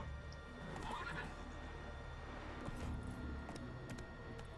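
Roach the horse in The Witcher 3 gives a clear whinny amid soft clip-clopping hooves, set against a steady ambient game background.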